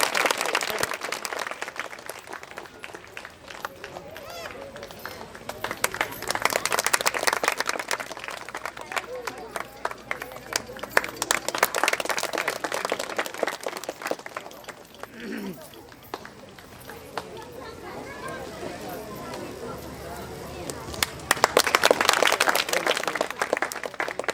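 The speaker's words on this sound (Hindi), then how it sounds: "अरे ताली तो बजाओ यार, ताली बजाओ" Audience at a Christmas celebration in Sukma, Chhattisgarh claps in several swelling bursts of applause over crowd murmur, rising and fading across the stretch with a loud final surge.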